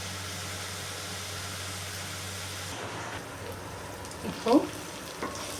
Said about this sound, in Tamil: இப்போ எனக்கு இது நல்லா வதங்கட்டும்.